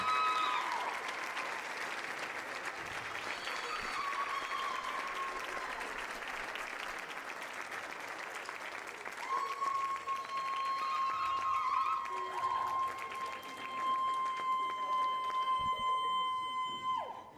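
A crowd at an Icelandic classic powerlifting championship applauds and cheers a winning lifter, sustained clapping from a hall audience that holds steady, with a tonal whistle or feedback line rising through the latter half.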